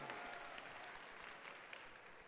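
Spectators at a catwalk fashion show in a Brazilian shopping mall clap in a soft, continuous patter that sounds distant and faint.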